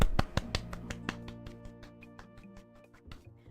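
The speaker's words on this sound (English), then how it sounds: "We're gonna give ourselves a clap." A few sharp hand claps ring out in an irregular run, loudest at first and then thinning, over a steady bed of sustained musical tones.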